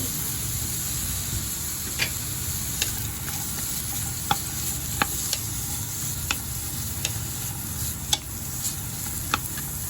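Onion sautés in hot oil in a pan for a mixed vegetable dish, giving a steady loud sizzle with scattered sharp ticks and scrapes of stirring throughout, without speech.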